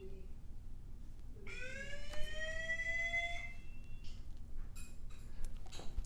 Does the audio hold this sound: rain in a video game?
no